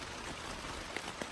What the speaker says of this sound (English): Well, it is raining. I think you can probably hear it.